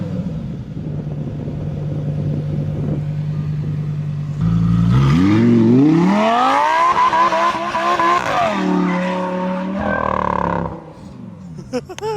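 A 2020 Lamborghini Huracan EVO idles, then roars as its tires squeal loudly in a long sustained skid while doing all-wheel-drive donuts, pitch rising and wavering before the noise cuts back.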